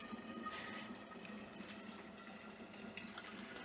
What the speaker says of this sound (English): so I'm going to pour it into this vessel